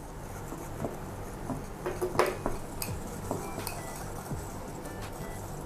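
A spoon stirring doughnut glaze of sugar, vanilla and melted butter in a bowl, quiet continuous scraping with light clinks against the bowl's side, close and soft, with no voices.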